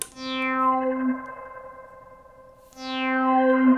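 An electric guitar played through a Gamechanger Light pedal set to its harmonics effect sounds two ringing notes. Each rises into a shimmering cloud of layered overtones with an echo-like swell, then fades, with a quieter gap between them.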